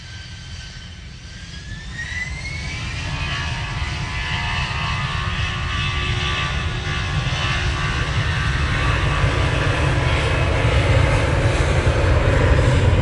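EasyJet jet engines spooling up at gusty Manchester Airport: a rising whine climbs over a deep rumbling roar that grows steadily louder and nearer, with no voices.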